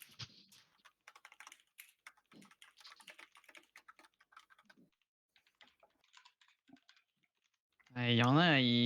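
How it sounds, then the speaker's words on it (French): Rapid clicking of computer keyboards typing during an online party game session, a steady clatter of keystrokes under scattered chat voices, ending in a loud tonal burst. "on entend tout le temps leur clavier là"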